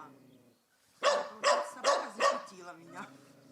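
A neighbour's dog barks four times in quick succession, loud and close, with a softer yelp trailing after and people talking before and after the barks.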